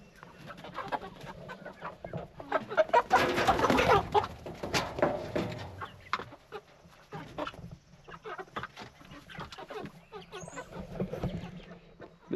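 Meat chickens about nine weeks old clucking on a Missouri farm, a busy overlapping chorus of clucks and squawks with a loud burst in the middle, close by and without speech.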